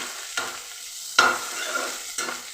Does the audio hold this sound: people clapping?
no